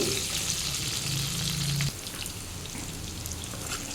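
Capsicum pieces fry in a kadai for an aloo capsicum kadai masala curry, giving a steady close sizzle with faint stirring scrapes; the sizzle softens slightly partway through.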